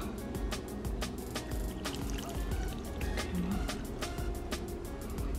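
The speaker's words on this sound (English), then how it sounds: "I'm gonna add a little bit of water to it." Water is poured into an apple cider vinegar and cucumber drink, a soft continuous trickle and splash that runs for several seconds, faint and close, with a few small clinks in between.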